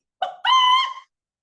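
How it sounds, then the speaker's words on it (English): A hen's single loud cluck used as a storybook sound effect, one short squawking call that rises into a sustained bright note and then stops, heard alone with no talk. "She stretched out her neck and clucked her loudest cluck."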